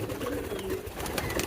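Pigeons coo steadily in a loft where one is laying an egg, their low rolling calls close and continuous over a dense, noisy background.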